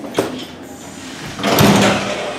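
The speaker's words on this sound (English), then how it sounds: "it is a pull door" A pull door in a building is opened, with a brief click, then a louder swish and rumble as it swings, heard up close with no talking.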